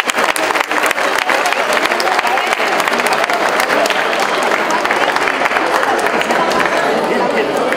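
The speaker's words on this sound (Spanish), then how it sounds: "Fuertes los aplausos." Loud, dense audience applause at a university event, continuous clapping with scattered sharp claps and crowd murmur underneath, holding steady throughout.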